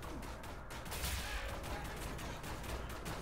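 Gunfire crackles at the player in Wolfenstein: The New Order, a dense, continuous fusillade of sharp bursts and impacts over a loud, noisy combat din.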